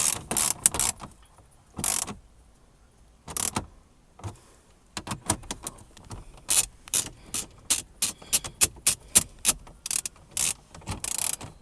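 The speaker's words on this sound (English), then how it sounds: "Then set a 10mm, the 10mm socket. Tighten it down." A 10mm socket ratchet tightening bracketry bolts on a 1995 Toyota Previa, giving close, sharp clicking bursts, first a few separate pulls, then a rapid run of evenly spaced clicks toward the end, with no talking.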